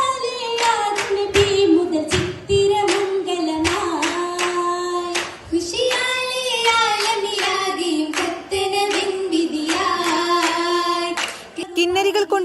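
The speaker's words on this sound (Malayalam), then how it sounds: "അലങ്കരിച്ച വേഷങ്ങളിൽ ഹൂറിമാർ വേദിയിലെത്തിയപ്പോൾ സദസ്സ് കയ്യടികളോടെയാണ് വരവേറ്റത്." An oppana performance at a school arts festival, with rhythmic group hand-clapping keeping time beneath a prominent singing voice, clear and loud throughout.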